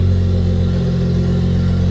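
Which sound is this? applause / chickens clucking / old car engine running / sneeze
old car engine running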